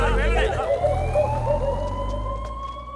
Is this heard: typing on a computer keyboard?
no